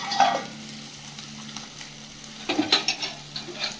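Small bata fish sizzle in hot oil close by, a soft steady frying hiss broken by sharper crackles and pops toward the end.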